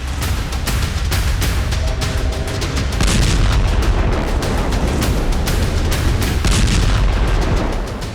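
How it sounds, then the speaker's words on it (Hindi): Drone strike explosions in Crimea make a loud, continuous barrage of overlapping booms and sharp cracking bangs over a heavy low rumble, dense and sustained throughout with no voices. "क्रीमिया के ही ओसातिया इलाके में यूक्रेन ने ड्रोन से कई विस्फोट किए।"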